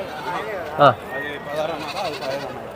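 Goats bleating at the Pileru sheep and goat market: one sharp, close bleat stands out amid loud, continuous haggling voices and busy market chatter.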